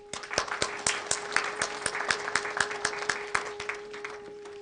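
An audience at an academy event celebrating a poet in an India Habitat Centre hall claps steadily together, the rhythmic, fairly loud applause sustained with slight variation throughout.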